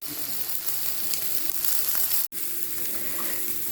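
Food sizzles on a grill outdoors on a snowy day with a steady, crackling hiss that stays loud and close throughout. A brief dropout comes midway, and nobody speaks.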